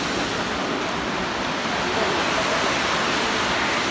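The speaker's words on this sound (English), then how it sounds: "you can see like a waterfall from the mist" The Ouzoud falls in Morocco roar with a loud, constant, broadband rush of falling water and mist, unbroken throughout.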